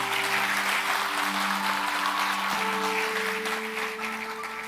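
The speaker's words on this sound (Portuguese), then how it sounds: "Dê o melhor aplauso que você pode dar ao Senhor" A church congregation applauds steadily throughout, a dense wash of clapping with a sustained musical tone underneath, fading slightly toward the end.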